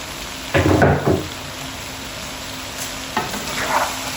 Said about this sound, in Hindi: तो मैं एक दफ़ा इनको मिक्स कर दूं